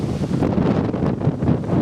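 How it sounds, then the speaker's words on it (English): Strong, cold wind at a carp fishery buffets the microphone in a continuous roar, with a rough, gusty rumble throughout. "It's cold, windy, horrible."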